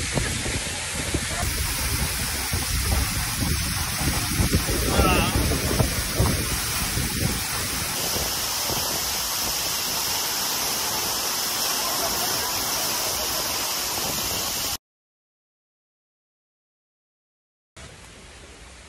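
Heavy water roars down a tall waterfall in the mountains of Bataraza, Palawan, in a powerful, continuous crashing rush, loud and close, with voices faintly under it before the sound cuts out briefly.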